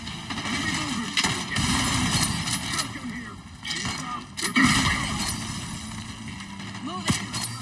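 Shotgun fire in Call of Duty Black Ops 6, with heavy booming blasts and a rumbling engine backdrop, several sharp shots breaking through, and a voice shouting over the combat.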